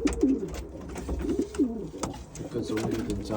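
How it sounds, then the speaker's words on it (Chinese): Pigeons in an old loft give repeated soft, throaty coos close by, several calls overlapping in short bursts against faint background rustle. "现在我养的有这么多鸽子"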